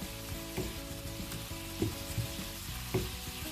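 Veal, onion and apples simmer in wine in a pan, a steady quiet sizzle and bubble with a few soft clinks of utensils, no talk.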